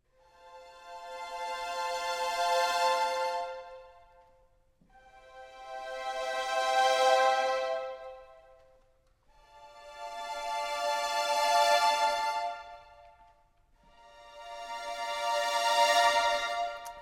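A muted string consort section from a sampled orchestral library plays four soft, sustained swelling chords, each rising and fading smoothly with short gaps between them.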